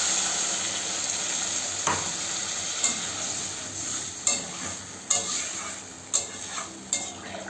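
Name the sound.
water added to sautéed papaya, potato and fish curry in pan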